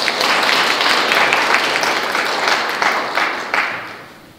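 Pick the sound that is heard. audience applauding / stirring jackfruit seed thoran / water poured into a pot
audience applauding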